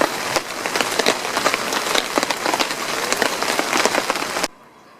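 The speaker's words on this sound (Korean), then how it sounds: "비가 오는데요." Rain falls on a tent at a campground in Jungnang, Seoul, making a dense, close patter of drops that holds steady and then cuts off abruptly near the end.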